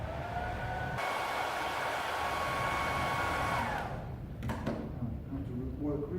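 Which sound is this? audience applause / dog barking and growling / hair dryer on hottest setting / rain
hair dryer on hottest setting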